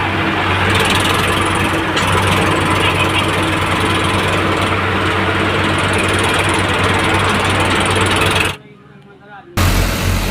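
Tractor engine running loud and steady under heavy load while several tractors work together to pull out another tractor with a rotavator attached, stuck deep in a field; the engine noise fills the scene, then briefly drops near the end.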